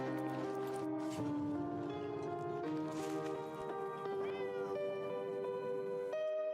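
A cat meows in a video game, a long run of drawn-out, tonal meows that rise and fall one after another, loud and close, with no talking.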